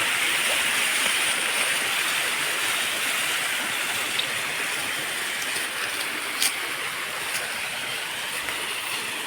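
Water pours steadily down a mountain stream in the Konkan hills, a broad continuous rush with no pauses, close and fairly loud, with a few faint clicks on top and no talking.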